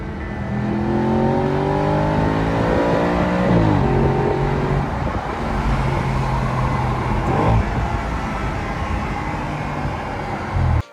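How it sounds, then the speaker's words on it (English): An Audi RS5 engine revs hard several times, each rise climbing in pitch, then drops back. The sound is loud and close with a strong, throaty tone. "The engine is by far the highlight and best thing about this car."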